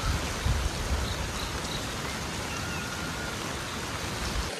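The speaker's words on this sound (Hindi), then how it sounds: "कंटिन्यू बारिश हो रही है" Continuous heavy rain falls in a misty hilly forest, a dense steady hiss of drops without pause, fairly close and uninterrupted by talk.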